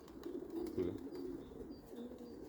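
Low, soft pigeon coos repeat in a murmuring rhythm, close and fairly quiet, with no talking.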